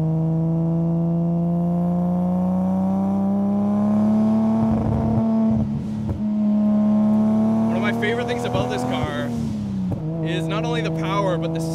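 An 800-horsepower Nissan Skyline R32 GT-R engine holds a loud, close, steady droning tone with turbo whine, then its pitch dips while sharp chirps and scrabbling bursts suggest the tires spinning.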